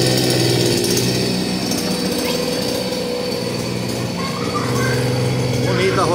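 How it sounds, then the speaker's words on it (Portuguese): A newly assembled Palisad 52cc brush cutter engine idles steadily and loudly during break-in, its small two-stroke drone continuous and close, with a person talking over it. "Vamos deixar ela maciar aí na lenta, pra sentar bem os anéis aí"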